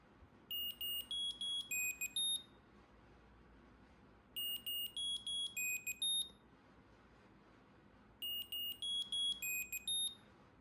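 Small Bluetooth trackers, an Apple AirTag and then a StarTag, chirp out three bursts of rapid high-pitched melodic beeps separated by short pauses. The beeps are fairly quiet over low room noise, and no one talks.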